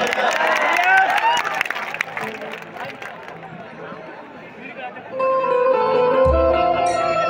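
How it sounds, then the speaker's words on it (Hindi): A crowd at a stage event in Kalyan, Mumbai claps and cheers loudly, mixed with chatter and a voice over the din, before music with bass swells in. "एक जोरदार ताली हो जाए हो भैया"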